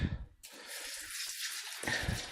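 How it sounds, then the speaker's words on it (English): Clean water poured through a HEPA filter to rinse it, a steady close gush of running water that carries on for about two seconds after a brief quiet start. "and then just pour some water, clean water, through there"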